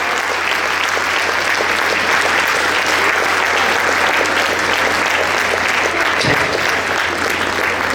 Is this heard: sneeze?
no